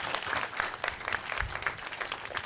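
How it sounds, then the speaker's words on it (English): Applause from a university panel audience fills the room for a few seconds, a dense patter of many hands clapping at once, fairly close and steady. "let's give our panelists a round of applause"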